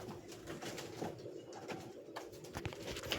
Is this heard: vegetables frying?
no